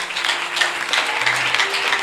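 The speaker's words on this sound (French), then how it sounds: "Ton acclamation doit être tellement forte" A church congregation claps and cheers in acclamation, a dense, lively wash of applause and voices that holds steady through a short burst.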